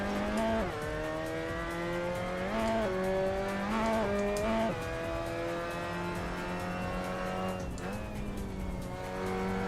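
Race car in Assetto Corsa, a sim racing game, with the engine droning at high revs and rising and falling through gear changes, plus a brief tire squeal, steady and fairly loud throughout.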